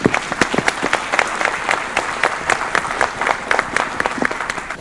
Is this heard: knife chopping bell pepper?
no